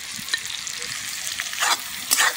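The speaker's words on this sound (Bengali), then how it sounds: "তেল গরম হয়ে গেছে আর পেঁয়াজগুলো ভেজে আমি বেরেস্তা তৈরি করে নেব।" Sliced onions with a pinch of turmeric and salt fry in hot oil for chicken biryani beresta, a steady close sizzle and hiss with a few brief stirring scrapes.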